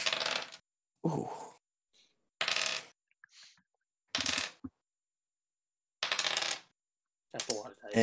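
A large handful of dice clatters and rolls across a table during a tabletop roleplaying game, in several separate rattling bursts with quiet gaps between them.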